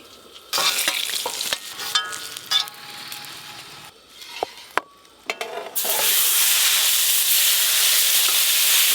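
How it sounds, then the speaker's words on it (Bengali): Slices of eggplant fry in oil with a bubbly sizzle as they are turned, and utensil clinks and scrapes come first. Then a loud, continuous, hissing fry takes over. "উল্টে পাল্টে লাল লাল করে ভেজে নেব"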